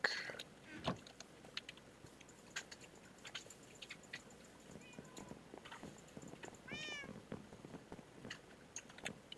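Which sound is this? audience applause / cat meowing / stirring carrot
cat meowing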